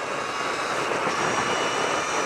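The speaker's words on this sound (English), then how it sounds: "And fourth gear on the freeway. Engine's wailing. The motor's wailing." A Brammo Empulse TT electric motorcycle fitted with a 13-tooth sprocket whines steadily in fourth gear on a freeway, a continuous high motor tone blended with broad wind rush, loud and unbroken.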